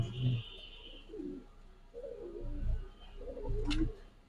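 Soft, low coos from pigeons at a large loft come in short bursts, a few spaced throat calls close by in an otherwise quiet space.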